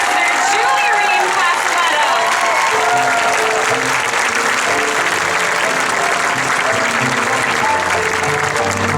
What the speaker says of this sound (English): Let's have one more big round of applause for our very first Disney ambassador, Julie Reihm.